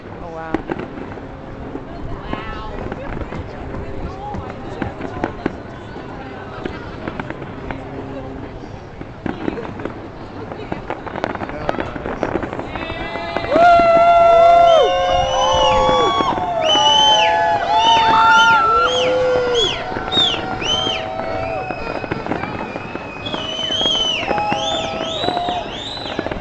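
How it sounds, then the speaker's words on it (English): A red, white and blue fireworks display over Seattle on New Year's, with a steady crackle and pops at first, then a denser, louder stretch of bursts and whistling shells as a crowd cheers and people talk nearby. "Here's the red, white, blue Obama fireworks."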